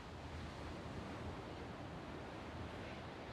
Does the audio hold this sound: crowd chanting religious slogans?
no